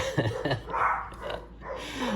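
A dog barks repeatedly indoors as the mail arrives: a burst of sharp, fairly close barks with brief gaps, followed by a lower drawn-out vocal sound, with no talk over it.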